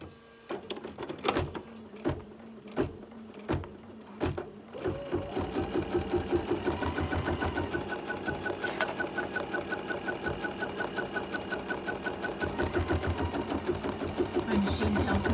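A sewing machine quilts a mug rug. A few separate clicks and whirs start it off, then it runs in a steady, rapid, loud stitching rhythm for about ten seconds, with speech faintly underneath.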